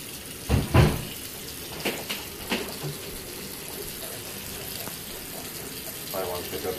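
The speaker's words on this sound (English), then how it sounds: "here is quite possibly my only mouth rinse for day 7" Running water at a bathroom sink during a mouth rinse: a couple of sharp splashing gushes early on, then quieter intermittent trickles and spits against a faint tap flow.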